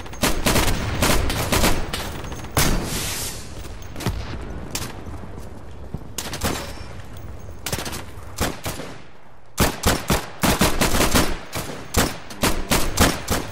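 Gunfire rattles in the World War II shooter Day of Infamy during a Battle of the Bulge match, with loud close rifle and machine-gun bursts in clustered volleys, short pauses between, and distant shots behind.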